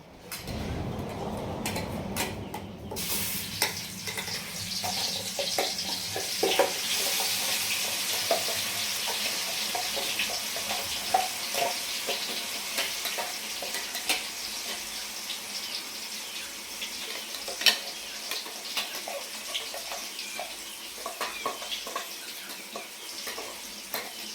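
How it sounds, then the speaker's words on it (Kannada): Ground onion paste with cinnamon and cloves fries in hot oil while cooking palak chicken, a steady broad sizzle and crackle that persists throughout at moderate loudness, with occasional clinks and stirring scrapes and no talking. "ಚೆನ್ನಾಗಿ ಈರುಳ್ಳಿ ಫ್ರೈ ಆಗಬೇಕು"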